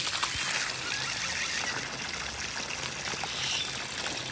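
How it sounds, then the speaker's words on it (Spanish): Water from a garden hose pours steadily onto banana plants, a soft continuous splashing trickle heard alone at low level throughout. "Ahorita le voy a pasar la manguera de este lado."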